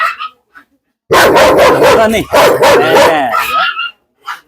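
A second dog nearby lets out a loud, rapid run of close barks lasting about two seconds, with a person calling out briefly before and after.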